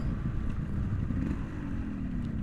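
An old 1980s–90s four-gear motorcycle being ridden gives a continuous low engine drone with a slight falling tone near the end, steady and fairly close, with no talking.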